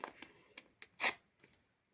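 Scissors snipping open a paper surprise packet, several short crisp cuts in a loose rhythm, quiet and close, with one louder snip near the end.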